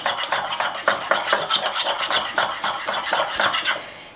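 A utensil stirs a homemade after-sun cream mixture in a bowl, scraping and clinking against the sides in quick, steady strokes that continue throughout, close and fairly loud, with no talking.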